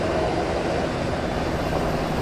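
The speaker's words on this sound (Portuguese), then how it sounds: "O helicóptero não parou não." A helicopter rotor runs in the video game ArmA 3, making a constant, loud, droning whir with no break or change across the short stretch.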